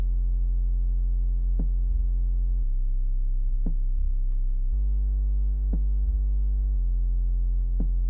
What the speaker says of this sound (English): So we do have an LFO in this sound.